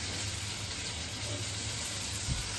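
Sausages frying in hot oil in a home kitchen pan, a dense continuous sizzle and hiss that stays steady and close throughout with no talking.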